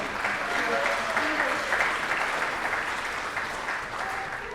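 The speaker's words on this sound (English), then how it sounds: "Give yourselves a round of applause." An audience at an evening lecture event applauds in a steady, moderately loud wash of clapping that holds for several seconds and then eases slightly, with a few voices mixed in.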